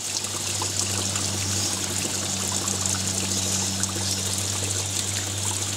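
Water flushing steadily through the cooling system of a Ford Laser/Mazda 323 after the coolant has drained, a continuous close trickling and streaming rush with a low steady hum beneath, no voices.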